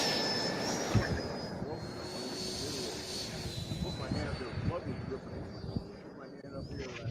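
An RC Super Hornet model jet flies overhead with a whining turbine tone drifting in pitch, mixed with outdoor rumble and wind, and people talking throughout.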